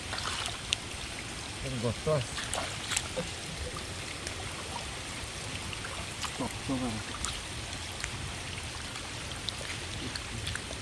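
Rain falls in a soft, continuous hiss with splashing water running nearby, faint and fairly distant, while a few voices talk quietly beneath it.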